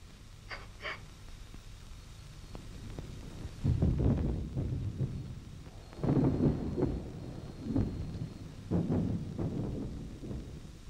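Rumbling thunder from a storm with rain rolls through in several low, booming swells, with a softer hiss between the peaks and no talking.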